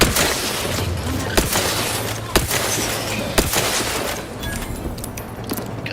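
Gunfire from a gun in The Outer Worlds 2: a handful of sharp, loud shots spaced a second or so apart over a steady rumbling background, fairly close.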